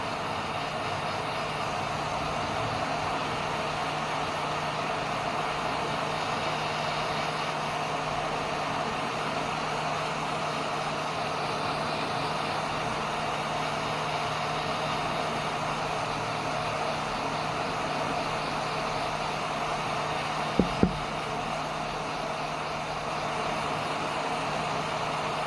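A hot air tool set to 250 degrees blows on the charging port pins of a Samsung Note 10, giving a long, steady, even rushing hiss with a brief double click near the end.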